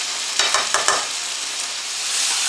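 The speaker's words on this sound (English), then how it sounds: "Caramelize your onions with your beef, then add in your garlic" Beef and onions caramelizing in a pot for Newfoundland beef stew, a continuous loud sizzle with a few quick scraping stirs near the start.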